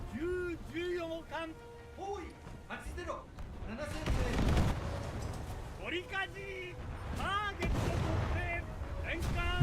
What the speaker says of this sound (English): I'm shooting where I should be shooting for a detonation